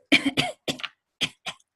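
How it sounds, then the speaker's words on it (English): A person clears their throat several times in short, gruff bursts with brief pauses between, close and fairly quiet. "As I clear my throat"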